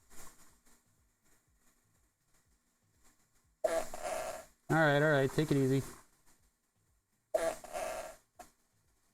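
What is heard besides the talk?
fart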